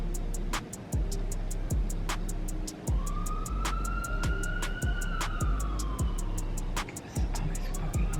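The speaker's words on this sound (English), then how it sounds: "like sirens going on here." Outdoor sirens wail with a long rising and falling tone at a moderate distance, over a rapid, regular electronic alarm beeping throughout.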